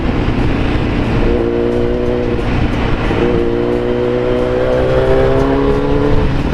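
Kawasaki Z900 motorcycle fitted with an Akrapovic exhaust, roaring loud and close as it accelerates, with rising gear-by-gear engine tones, a brief shift near the middle, then another climbing pull.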